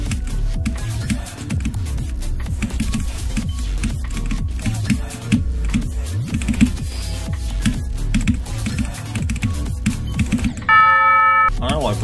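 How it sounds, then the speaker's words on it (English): Computer keyboard keys struck hard and fast while playing Geometry Dash, a steady run of clicky taps mixed with loud game music and a person talking, ending in a brief bright chime. "I tend to hit the keyboard harder to play"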